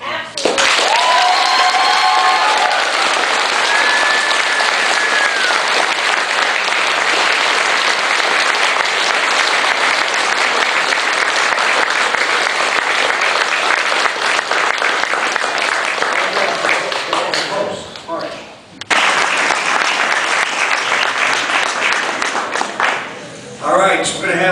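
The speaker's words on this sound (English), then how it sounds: "Ladies and gentlemen, I think they need a round of applause." Sustained applause from an audience at an NJROTC cadet recognition ceremony, a dense, loud wash of clapping over about twenty seconds with a brief dip near the end, a few whistles at the start.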